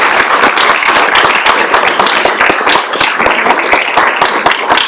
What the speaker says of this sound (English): Let's give applause to Christy Rashid.